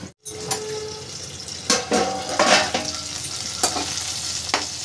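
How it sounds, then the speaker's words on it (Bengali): Potatoes frying in oil in a pan, a steady close sizzle broken by several scraping stirs and clatters from a spatula against the metal. "চলুন দেখি আলুটা ভাজা হয়েছে নাকি।"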